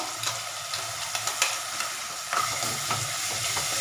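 Ginger garlic paste sautéing with onions and green chillies for chicken gravy, a close sizzle with scraping stirs and soft spoon taps against the pan, no voices.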